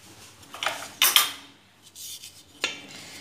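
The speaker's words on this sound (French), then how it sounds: "je vais essayer de mélanger avec la cuillère" A spoon scrapes and clinks against a bowl while brioche dough is being mixed, in a few short bursts separated by quiet pauses.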